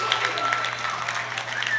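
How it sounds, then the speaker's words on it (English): A crowd roars and applauds at a world junior powerlifting championship as a new junior total record is confirmed in the men's 93 kg class; dense, steady cheering and clapping fill the hall, with a voice faintly present underneath. "And with a roar from the crowd, there is 3 white lights"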